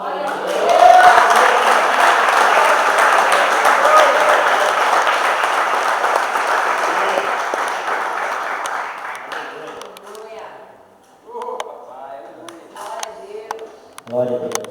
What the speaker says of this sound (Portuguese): Você pode glorificar o Senhor com as palmas